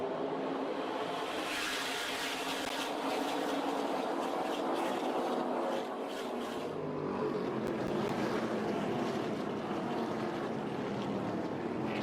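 Trucks race at Gateway, their engines a loud, steady, blended roar with no breaks, some rising and passing swells over the continuous drone.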